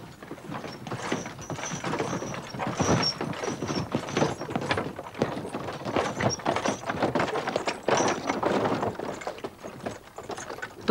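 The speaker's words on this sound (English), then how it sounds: "with the farmer leading the horse." Horse hooves clopping at a walking pace on a farm track, the animal led by hand and pulling an old wooden tip cart, with harness and cart rattles mixed into an irregular, moderately close rhythm.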